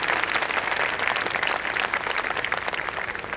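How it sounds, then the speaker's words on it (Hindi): Steady, dense applause from a school annual day audience honoring children after their performance, loud and sustained throughout with no voices over it. "एक बार फिर से जोरदार तालियां जो उन बच्चों के लिए जिन्होंने खूबसूरत प्रस्तुति दी है"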